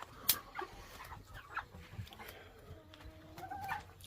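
Eight-week-old meat chickens clucking softly in a shavings-lined pen, scattered low murmurs and short calls at a moderate distance, with no one speaking.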